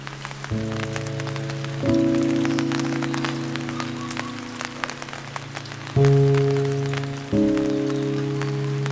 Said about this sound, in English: But when it begins raining even harder, they can only stop and wait.